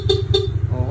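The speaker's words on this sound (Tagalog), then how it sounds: "ito naman yung kanyang busina mga sir" Two short, bright honks from a stock motorcycle horn sound close and loud over a low idling engine rumble, each blast lasting about a tenth of a second.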